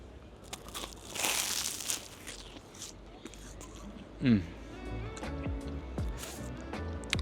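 Flaky pastry crust of a $20 loaded meat pie crunching in a single sharp bite partway through, with softer chewing and faint handling noises around it.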